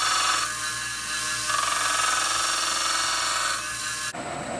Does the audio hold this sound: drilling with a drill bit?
yes